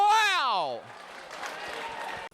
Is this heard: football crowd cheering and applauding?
yes